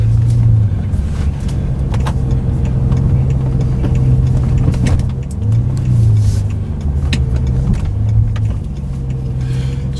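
A BMW M6 with a V10 engine drives around town, its engine note rising and falling through low rumbling revs and gear changes, loud and close throughout with steady road noise and no talk.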